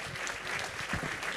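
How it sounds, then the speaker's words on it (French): Audience clapping steadily at a French public conference on the future of artificial intelligence, a dense, continuous round of applause from a live crowd, fairly loud and without speech over it. "vous pouvez les applaudir"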